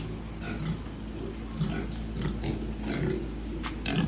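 Pigs grunting and oinking on a farm, a steady mix of low snorts and grunts close by over constant background noise.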